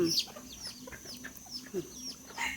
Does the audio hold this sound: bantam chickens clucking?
yes